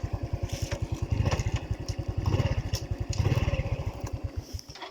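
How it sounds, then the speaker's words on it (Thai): A motorcycle engine runs at a fast, even idle, close and steady, its rapid thumping pulses sharply regular before the motor is switched off and the sound stops at the end. "เดี๋ยวขี่มอไซค์ไป อ่า มาถึงแล้ว เดี๋ยวดับเครื่องรถก่อน"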